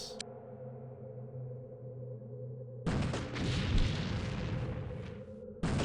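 A sharp burst sounds at the start of an X-Com Apocalypse battle, followed after a quiet stretch by a heavy, sustained blast-like roar that cuts off abruptly and then briefly resumes at the end.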